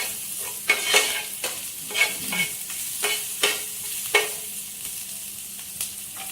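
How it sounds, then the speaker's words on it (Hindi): Green chillies stirred and sautéed in a pan for aloo kachori filling, with a soft steady sizzle under repeated sharp scrapes and knocks of the spoon against the pan. No one speaks. "इसके साथ ही हरी मिर्ची डालें। थोड़ा सा इनको सोते करें।"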